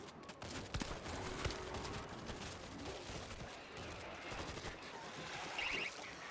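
Gunfire in the World War Z video game during horde mode, with rapid, dense bursts of shots rattling on amid chaotic background noise at a moderate, fairly distant level.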